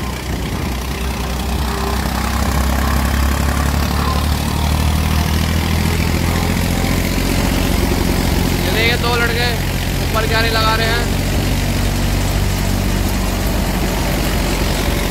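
A Preet 4549 three-cylinder, 45-horsepower tractor drives a thresher in a rain-dampened field, its engine holding a steady, loud, low drone while someone speaks over it in Hindi.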